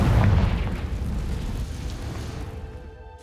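A Confringo fire-blast spell explodes in Hogwarts Legacy with one loud, deep boom that rumbles and slowly fades over about three seconds, with no talking.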